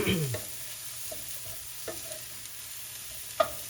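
Mushrooms cooking in butter for beef stroganoff give a faint, steady sizzle under a few soft utensil clicks and scrapes, with one sharper tap near the end.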